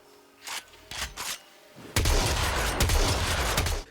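Corinth Prime shotgun from Warframe firing repeatedly, a few separate punchy blasts followed by a sustained burst of rapid, heavy booming shots close and loud, with no talking.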